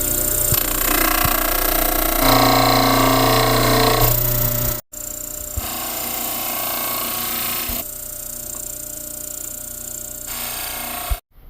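Dental stone casts ground on a model trimming machine, a loud continuous grinding whir with shifting tone as the casts are pressed against the wheel, stopping briefly partway through, then resuming.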